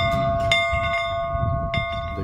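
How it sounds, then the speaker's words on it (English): A school bell rings at a one-room schoolhouse museum, clear bright metallic strikes with long sustained ringing tones, a few struck hits over a soft background rumble. "Once they hear the school bell ring, they go back in time."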